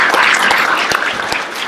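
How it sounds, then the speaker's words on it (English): Loud, close applause from an audience at a small business awards event, a steady dense patter of clapping with a few sharper claps standing out, and no voices over it. "give a round of applause to our"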